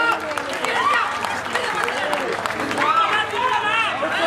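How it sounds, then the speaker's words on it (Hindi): Spectators at a national open kabaddi tournament clap and cheer in a busy, crowded arena, their applause blending with shouting voices and an announcer speaking over the crowd. "जोरदार तालियां"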